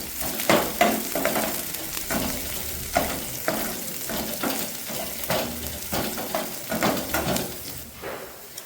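Chopped garlic fries in a pan on lowered heat, stirred repeatedly, giving a steady close sizzle broken by rhythmic scraping and clattering strokes of a spatula against the pan over several seconds, with no talking.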